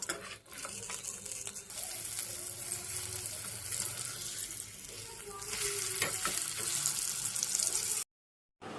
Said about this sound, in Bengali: এরপর এক এক করে ফিশ ফ্রাইগুলোকে ছেড়ে দেবো।